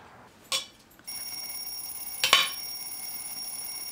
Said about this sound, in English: The alarm clock. It's going off again.